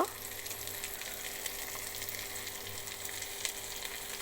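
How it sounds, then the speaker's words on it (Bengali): Chopped onion hitting hot oil and frying with a constant soft hiss and crackle, fairly quiet and even from start to finish, with no one talking. "তো আমার তেলটা গরম হয়ে গেছে এখন আমি পেঁয়াজ কুচি দিয়ে দেবো"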